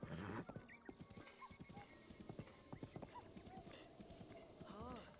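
Quiet, regular hoofbeats of a horse walking, a steady clip-clop rhythm, with a brief whinny toward the end, in The Legend of Zelda: Breath of the Wild.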